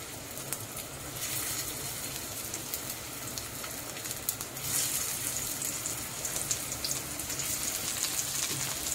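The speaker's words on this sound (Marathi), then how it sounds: "त्याच्यामध्ये आता आपल्याला हे काप टाकायचे आहे. फ्राय करून घ्यायचे आहे चांगले." Stuffed capsicum slices fry steadily in hot oil, a dense, continuous crackling sizzle that stays close and even throughout with no voices.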